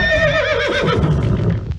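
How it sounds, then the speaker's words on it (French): A horse neighs loudly and close by, a long wavering whinny that trails off into breathy snorting, with no voices over it. "Oh, il y a des chevaux là."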